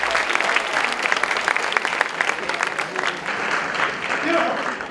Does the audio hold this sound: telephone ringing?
no